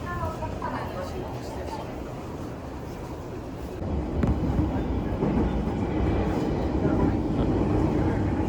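A train rolls through Tokyo's outskirts toward Okutama with a steady interior rumble and rattle that grows louder partway through.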